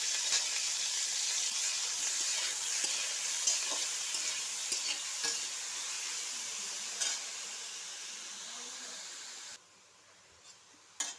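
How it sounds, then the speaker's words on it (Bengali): Washed soybean chunks fry in oil in a wok, an even hissing sizzle with occasional stirring scrapes that drops sharply near the end, leaving a few quiet clinks, with no voices. "এখন আমি কড়াইতেও একটু তেল দিয়ে দিয়েছি, দিয়ে প্রথমে আমি সয়াবিনটা একটু ভেজে নেব।"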